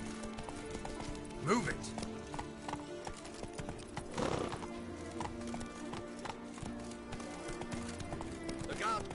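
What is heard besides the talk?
horse hooves galloping in The Witcher video game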